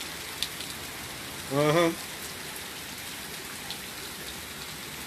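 Steady rain falls on a stormy day, a soft continuous hiss filling the background, with a brief voiced murmur partway through.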